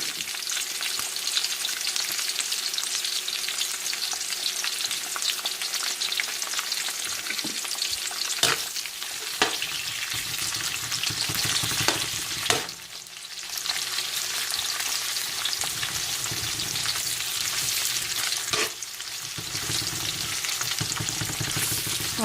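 Red onions sauté for humba in a hot pan with a loud, continuous sizzle and occasional stirring clatters, close up and uninterrupted by speech, with one brief dip midway.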